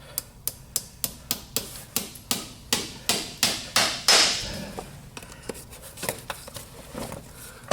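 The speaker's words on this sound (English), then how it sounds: "We're using the Liberty number 7 driving hammer. These things do swing very nice." A Liberty No. 7 driving hammer striking horseshoe nails being driven into a hoof: sharp, evenly spaced metallic taps, about twenty in a row, close and crisp, a few louder blows in the middle, then lighter taps.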